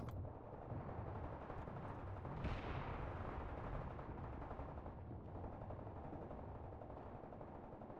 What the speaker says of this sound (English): That is a Maxim gun, but it's being currently targeted by a mortar.